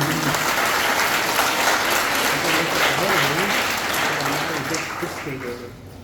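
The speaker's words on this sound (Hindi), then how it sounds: "आप सबके स्पॉन्सर के लिए एक जोरदार ताली होनी चाहिए।" A crowd at a health awareness program claps loudly for the sponsor, a sustained roar of applause with a voice talking over it, tapering off toward the end.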